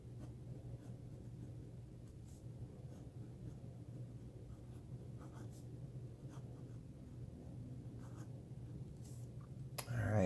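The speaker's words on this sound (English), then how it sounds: "so there is our writing sample." A Wing Sung 601 piston-filler fountain pen with an extra fine, slightly wet nib scratches faintly across paper in soft, continuous strokes over a low steady hum. A louder knock comes at the end.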